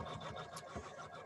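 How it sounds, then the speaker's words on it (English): A Janome embroidery machine stitches positioning lines in the hoop, its rapid, even needle chatter running steadily at moderate volume with a few brief clicks. "I'm lowering that down and going to start embroidering"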